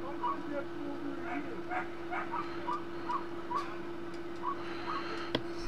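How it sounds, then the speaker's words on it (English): Dogs barking outside, a string of distant, faint yips and barks at a steady pace over a constant indoor hum, with a voice talking quietly at times. "the dogs are barking and shit."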